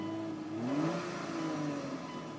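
The V6 engine of a 2005 Hyundai Tucson 4WD SUV with a slight exhaust leak revs up and then settles, a steady mid-pitched motor drone with a brief rising whine, fairly close and without talk.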